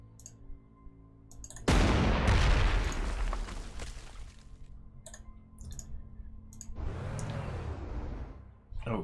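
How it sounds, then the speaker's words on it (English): Artillery fire in the strategy game Panzer Corps 2: a sudden loud blast with a long rumbling decay, followed by a second swelling whoosh-like boom, with faint clicks before and between. "Okay, artillery."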